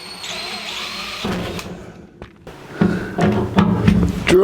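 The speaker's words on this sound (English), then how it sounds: "Drill out our holes." Power drill boring 1/8-inch pilot holes through a seat mount in a 1949 Chevrolet gasser, a whirring motor that winds up, stops briefly, then restarts under load with a few clunks nearby.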